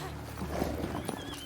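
Hooves clip-clop steadily as a horse is ridden in The Witcher 3, a rhythmic trotting beat mixed with outdoor ambience and a brief snort, with faint voices underneath.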